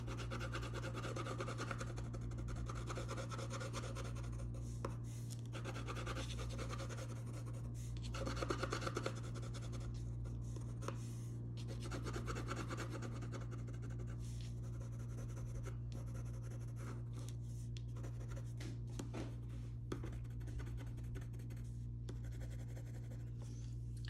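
Colored pencil rubbing across paper while shading a drawing of a plaid shirt in crimson, soft close scratchy strokes in irregular bursts over a steady low electrical hum.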